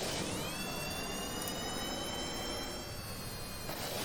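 A large jet engine on a craft in Kerbal Space Program roars steadily, a loud dense rush with a thin high whine that slowly slides in pitch, holding without letup throughout.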